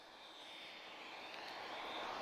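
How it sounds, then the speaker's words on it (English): A Portuguese Air Force Dassault Falcon 50 presidential jet at Lisbon Airport, a distant steady engine whine and roar that grows slightly louder across the clip, with no talking. "Força Aérea Portuguesa, Portuguese Air Force, Falcon 50. Our presidential aircraft."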